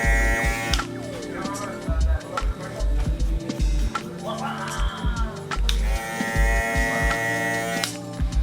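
A beard is trimmed with hair clippers whose guard has been taken off, giving a close, steady electric buzz that runs through the clip alongside other layered background sound.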